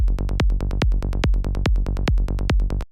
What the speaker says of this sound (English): You can hear that this is a much tamer bassline sound.